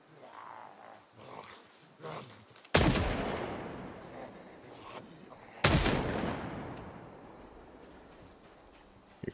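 Two loud, sharp gunshots in the zombie survival game Project Zomboid, spaced about three seconds apart, each ringing out with a long decaying tail after quieter ambient stretches.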